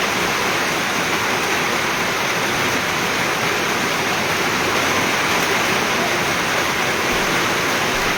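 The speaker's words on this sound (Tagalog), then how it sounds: "Makasang ulan." Dense, steady roar of heavy rain pouring down, a constant broadband hiss with no pauses, loud and close.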